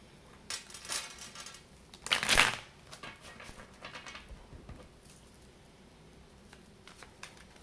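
Rapid papery riffling of a card deck being shuffled, with a louder burst of flicking in the middle, soft handling noises around it.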